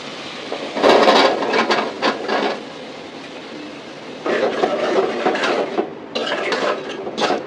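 Stalk vegetables and potato pieces tipped into a pan of spiced masala for a Bengali home-cooked dish, giving loud bursts of sizzling and clattering in two main spells, with no talking.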